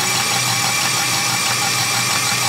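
A car engine that has been converted to an electric car is cranked and runs in start mode, giving a steady loud mid-pitched engine drone with vibration throughout, no revving evident and no talking.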